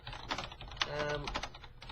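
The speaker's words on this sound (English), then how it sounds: "this keyboard's a little bit stiff" Keystrokes clatter on a stiff computer keyboard in a quiet room, a short run of close, moderately soft clicks with uneven rhythm.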